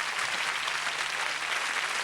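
A studio audience on the French TV show Tous à la Une in 1990 gives dense, even applause, a thick wash of clapping that holds steady from start to finish.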